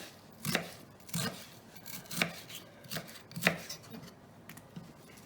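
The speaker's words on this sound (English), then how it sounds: "I'm actually going to dice it." A knife dices an onion on a cutting board while a calzone is being made, about eight firm, evenly spaced chops, close and clear, with no voices.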